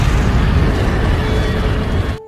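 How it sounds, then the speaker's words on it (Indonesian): A house explodes: a loud, sustained roaring blast with dense rumble continues for about two seconds before cutting off abruptly. "rumah Michael pun meledak."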